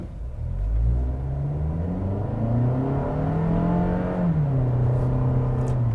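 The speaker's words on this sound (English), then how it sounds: "let's do a slight acceleration run here really quickly here" A 2023 Toyota Camry XSE with its four-cylinder engine in sport mode and traction control on accelerates gently, the engine note rising steadily in pitch, dipping briefly at a shift, then climbing again as a continuous close rumble inside the cabin.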